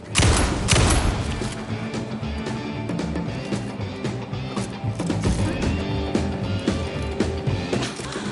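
Dense, rapid gunfire from the survival horror game Alan Wake 2 on PS5, with sharp booming shots packed together at the start and a continuous rattle of firing and impacts behind it.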